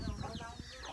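Chickens clucking close by outdoors in fair weather, a steady run of soft, busy clucks and low calls over the whole second, with a voice talking faintly underneath.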